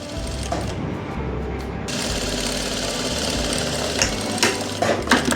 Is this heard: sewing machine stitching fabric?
yes